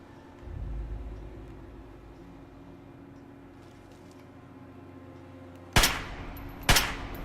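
Gunfire in Fallout 3 around the Super Duper Mart: a dull distant thump early on, a long quiet stretch of low ambience, then two sharp, loud shots about a second apart near the end.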